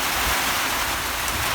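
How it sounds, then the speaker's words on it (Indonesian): Rain falling on a mountain during a foggy storm, a constant broad hiss of steady rainfall, fairly loud and unbroken over the short stretch with no voices. "Hujan terus dari tadi."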